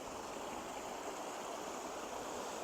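The river at Tel Dan flows abundantly in a dense, even broadband rush of water that holds steady throughout, with no voices.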